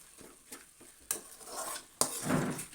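Onions and dried red chillies being stirred in a pan, quiet faint sizzling broken by a few sharp scrapes and clinks of the spoon, close up, no speech.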